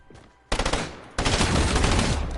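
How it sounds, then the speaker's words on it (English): Burst-fire submachine gun shooting in a video game: a short rattling volley, a brief pause, then a longer sustained stretch of rapid loud shots close up, with no talk. "Oh, the burst SMG?"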